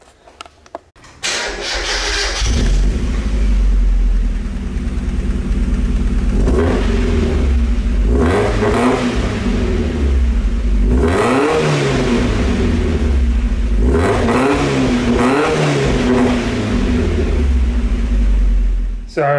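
A Mazda MX5 engine with a newly fitted M2 Motorsport race exhaust cranks and catches, then settles into a loud rumbling idle with a few short revs rising and falling, close by.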